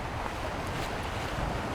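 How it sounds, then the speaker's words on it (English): Wind blows steadily outdoors, a loud, constant broadband rush with low rumbling gusts against the microphone and no talking. "it's a little bit of a windy day today"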